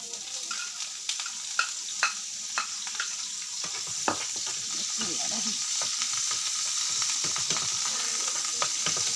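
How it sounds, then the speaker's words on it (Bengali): Chopped onion goes into a pan of butter and milk for pasta, with a few scattered clacks of the spoon giving way to a continuous bubbling sizzle and stirring. "এখন আমি দিব পেঁয়াজ কুচি।"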